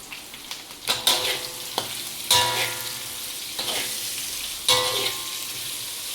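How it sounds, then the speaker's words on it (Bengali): Sizzling oil in a pan flares into louder bursts several times as chillies go in and get stirred, each surge of crackle fading back to a steady fry, with clanks of utensils between. "মরিচটাও দিয়ে দিলাম"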